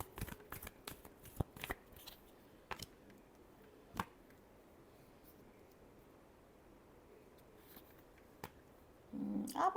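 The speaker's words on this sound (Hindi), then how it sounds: "Last shuffle." Tarot cards are shuffled close by in a quiet room, a cluster of quick crisp riffles and slaps at the start followed by a few isolated taps and card snaps, with a brief voice at the very end.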